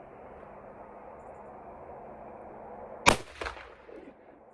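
A single sharp rifle shot from a Sako Finnbear chambered in 30-338 firing a handload, a loud crack over faint outdoor hiss, followed by a shorter echoing report and a decaying rumble.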